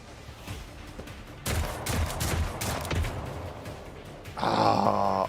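Pistol gunfire in a video game, rapid cracking shots in bursts through the middle, followed by a louder harsh rush of game effects at the end.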